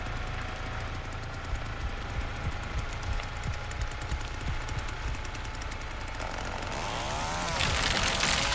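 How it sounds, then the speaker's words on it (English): Leatherface's chainsaw in The Texas Chain Saw Massacre video game restarts and runs, a rough continuous mechanical buzz with rapid chattering pulses that swells louder toward the end. "you do turn off your chainsaw, so you have to turn it back on"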